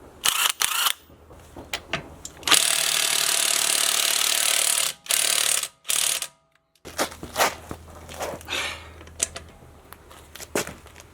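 An impact gun works on a wheel of a BMW E90 335i, giving a loud close burst of buzzing rattle lasting a few seconds, surrounded by shorter bursts and clanks with pauses between.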